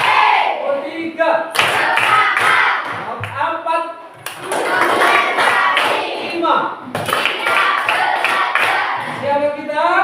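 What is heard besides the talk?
class clapping in counted rhythm patterns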